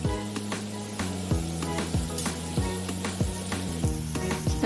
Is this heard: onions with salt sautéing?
yes